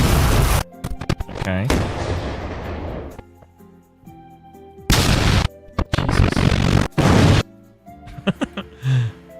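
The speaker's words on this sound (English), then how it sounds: "Explosion sound effect." Several loud, abrupt booming blasts in separate bursts, with a short spoken word between them.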